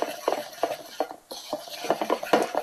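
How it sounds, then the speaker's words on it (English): A whisk clinks and taps against a bowl in quick uneven bursts as soy milk is blended for a vegan pastry decoration, close and fairly quiet, with a brief pause midway. "We whisk with a whisk until it's blended thoroughly."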